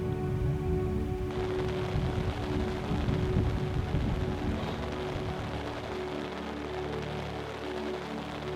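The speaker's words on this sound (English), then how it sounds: "just as it had started to rain" Rain begins falling at a backcountry camp during an archery deer hunt, a steady, soft broadband hiss with a low rumbling undertone, continuous and fairly faint, with no talking.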